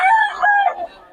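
A Sweater Gilmore gamefowl rooster crows once, a short, close, loud crow that breaks into a few tonal segments and fades at the end, heard alone.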